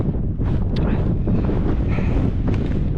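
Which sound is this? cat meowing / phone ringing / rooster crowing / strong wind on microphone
strong wind on microphone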